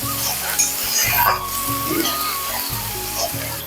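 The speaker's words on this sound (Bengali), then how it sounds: "দিয়ে দেবো আদা রসুন বাটা দিয়ে ভালোভাবে মশলাটা আমি কষিয়ে নেবো" Masala with onion paste and ginger-garlic paste is sautéed for a village-style doi katla, giving a close, continuous sizzle with scraping stirs and light utensil clinks against the pan.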